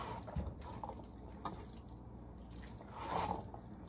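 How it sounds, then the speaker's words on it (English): Three cans of dark red and one can of light red kidney beans poured into a pot, giving a few wet drips and soft liquid plops against a low background hum. "I'm gonna add about 3 cans of dark red and 1 can of light red kidney beans"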